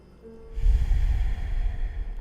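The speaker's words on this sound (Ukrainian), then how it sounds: "Глибоко дихаємо." One long, deep breath drawn close to the microphone during a yoga session, a soft, airy rush that swells and holds for about two seconds.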